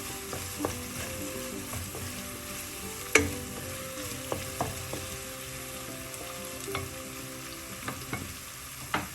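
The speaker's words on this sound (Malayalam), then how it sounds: "എല്ലാം കൂടെ ഒന്ന് നന്നായിട്ട് വഴലിട്ട്" Spices sizzle gently in a pan while a spoon scrapes and taps the metal at irregular intervals; no voices.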